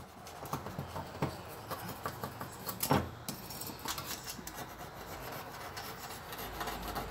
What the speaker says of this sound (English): You want to make sure that your stove topping has the coating on it where it doesn't scrape off with the razor.